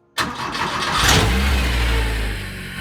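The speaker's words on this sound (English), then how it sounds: "let's hear this thing start up" A Porsche 911 fitted with a Honda K24 engine fires up abruptly and settles into a steady, rumbling idle, loud and close with no talking.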